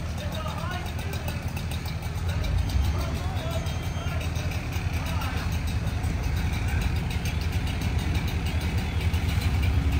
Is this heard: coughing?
no